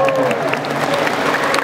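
Brief, brisk applause from a crowd at an election victory declaration in Cilegon, loud and close with scattered sharp claps.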